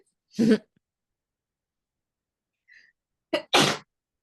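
A single sharp allergy sneeze, then a short silence, a faint sound, and a second burst that sounds like a sneeze or a brief voice, all in a quiet room.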